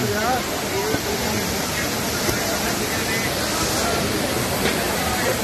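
A steady, broad roar of rushing water fills the scene without pause, like Kutayam waterfall heard from close by, with faint voices mixed in.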